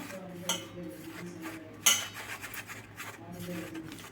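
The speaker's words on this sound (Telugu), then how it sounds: "ఈ మసాలాలన్నీ ఒకసారి అయితే కలుపుకోవాలండి మొత్తం కలిసే విధంగా" A metal utensil stirs spices into okra pakoda batter in a bowl: soft scraping and rubbing with occasional clinks, one sharper knock partway through, heard close with faint background speech.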